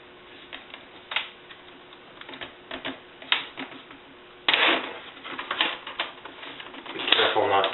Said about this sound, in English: you can hear the bezel just snaps off coming all the way around